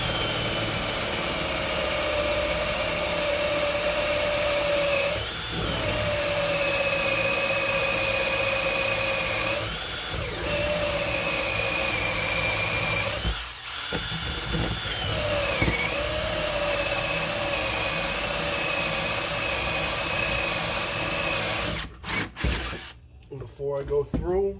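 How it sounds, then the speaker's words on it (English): A drill bores 7/8-inch holes through wood with a Forstner bit during drift boat restoration, a steady loud whine running continuously with slight pitch dips, ending in a few rougher bursts. "so I'm using this Fosner bit to get it going."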